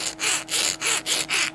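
A metal file rubs on hardened steel in a rapid series of about six rasping back-and-forth strokes, close and fairly faint, with no talking.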